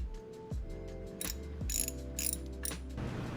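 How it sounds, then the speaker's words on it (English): A ratchet clicks in quick rhythmic bursts while tightening the oil filter housing on a supercharged classic Mercedes, close and clear with steady mechanical pawl ticks and no talking. "We'll get the filter started with a ratchet, and then with the torque wrench we'll set it to 24 Newton meters."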